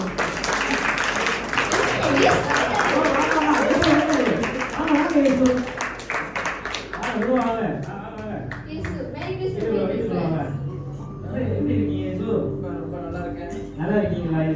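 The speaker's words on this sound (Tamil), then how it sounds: "வாருங்கள், ஒரு கம்பீர கைத்தட்டுடன் வரவேற்போம்." An audience at a Christmas service drama claps loudly to welcome a performer playing Jesus. The applause lasts for the first half, then fades under a voice speaking.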